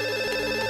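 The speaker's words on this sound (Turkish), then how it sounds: "Telefon çalıyor." A telephone rings in a Turkish TV drama scene, a steady electronic ring with a bright sustained tone at fairly loud level, alone without speech for under a second.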